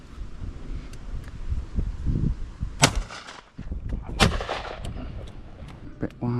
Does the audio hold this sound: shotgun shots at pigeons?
yes